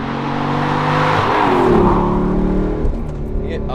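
A Mercedes C55 AMG with a manual gearbox revs hard, the engine note swelling loud and close, then easing off into a lower drone as the revs drop.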